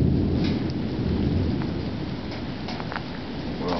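Early-morning hail storm with heavy rain pouring steadily and low thunder rumbling throughout, loud and continuous with no voices.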